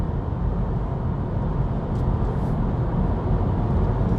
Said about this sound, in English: you will also notice that this car is quite noisy